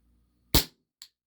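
WE Tech Bulldog 6mm gas blowback airsoft pistol firing: one sharp, snappy pop with a short tail, followed half a second later by a fainter second click, alone in otherwise quiet surroundings.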